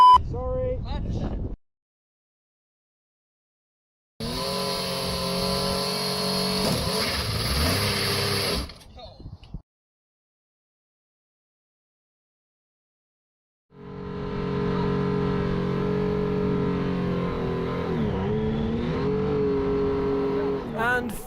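Racing simulator car engine revving in first gear, in two sustained bursts of loud, steady engine drone separated by silence, with a short engine blip at the start and people talking at points.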